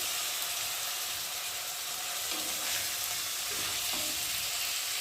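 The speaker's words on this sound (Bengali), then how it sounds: "দিয়ে মশলাটাকে ভালোভাবে কষিয়ে নেব।" Spice masala of cumin, tomato and chili powder sizzles steadily in hot oil for a Bengali rui fish curry, a dense, even frying hiss with faint stirring movements throughout.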